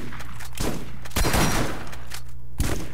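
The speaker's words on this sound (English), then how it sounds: "Are we actually getting shot by something?" Loud, dense enemy gunfire in Borderlands 1 Remastered, a rapid fusillade of overlapping shots and bursts that keeps going with no letup for three seconds.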